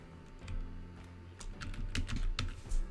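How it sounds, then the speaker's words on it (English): Keys clatter on a computer keyboard in quick, uneven bursts, sparse at first and then denser and louder toward the end, with a steady low hum beneath and no voices. "Press the Enter key on your keyboard."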